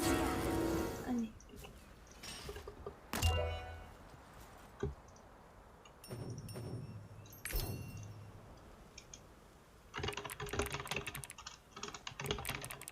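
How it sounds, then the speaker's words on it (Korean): Clicky computer keyboard typing comes in short quiet bursts separated by pauses, close and soft, with some faint background noise while playing Lost Ark. "타자 빠르시네요"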